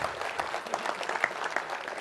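An audience claps at a masterclass seminar, dense continuous applause from many hands at steady loudness with no voices over it.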